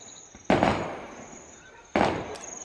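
Firecrackers bursting at a nearby resort during festival celebrations: two loud, sharp crackling bursts about a second and a half apart, each trailing off in a dense spray of pops against a quiet background.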